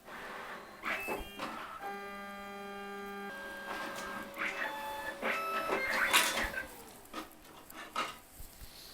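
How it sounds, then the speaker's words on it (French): A card printer printing a plastic health pass card: whirring motor tones and a sustained mechanical hum, interrupted by clicks, clunks and feed sounds, fairly close and without talk. "l'impression démarre immédiatement ou après quelques secondes sur l'imprimante"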